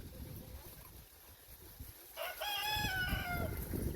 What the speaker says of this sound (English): we have all the meat chickens running around, so there's chickens everywhere